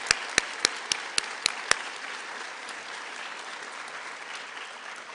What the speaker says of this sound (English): We can all give them a round of applause.